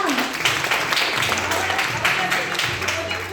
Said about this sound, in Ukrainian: Ваші оплески нашим чудовим містам!